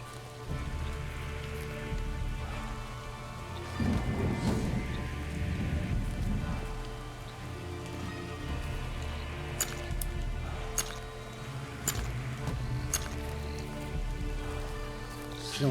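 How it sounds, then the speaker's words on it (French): Steady rain falls in the video game Drova, a continuous soft patter that runs the full length with no talk, while sharp clicks and small game sounds pop up over it now and then. "Ça enlève le son de la pluie, vous entendez? Regardez, là il pleut."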